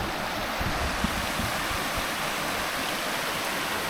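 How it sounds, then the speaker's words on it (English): A small brook spills over a little mini waterfall along an off-road route to Big Otter Pond in Newfoundland, giving a steady, close, full rushing wash of water that runs unbroken and alone throughout. "It's almost like a little mini waterfall."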